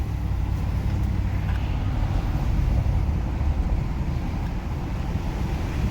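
Ford F-250 with a 7.3 gas engine cruising near 50 mph, heard as a steady low rumble of engine and road noise inside the cab, mixed with wind buffeting, continuous and moderately loud.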